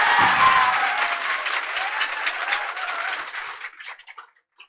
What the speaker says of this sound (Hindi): तो इनके लिए एक बार जोर से ताली होना चाहिए।